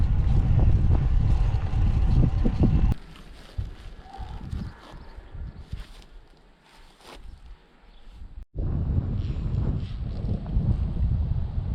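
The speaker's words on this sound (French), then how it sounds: "il y a du vent" Strong wind buffets the microphone on a cycling ride through the hilly Grande Champagne vineyards near Cognac, loud rumbling gusts that ease off midway then return hard.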